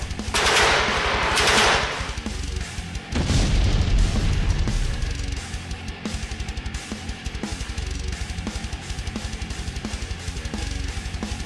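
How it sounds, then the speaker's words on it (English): A minigun fires two long, rapid bursts of loud, close gunfire, followed by a steady stream of fast repeated shots that continue at lower intensity until the end. "After moving a shoot at the turret using my minigun, destroying it completely"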